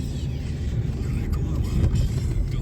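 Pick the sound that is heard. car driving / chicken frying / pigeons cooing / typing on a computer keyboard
car driving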